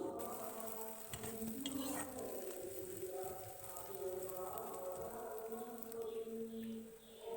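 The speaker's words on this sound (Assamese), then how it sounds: "আদা নহৰুখিনি কেঁচা গোন্ধ মাৰ যোৱালৈকে অলপ সময় ভাজি থাকিম।" Crushed ginger and garlic frying in a pan on an Assamese home stove, a faint continuous sizzle with a few stirring scrapes of the spatula throughout.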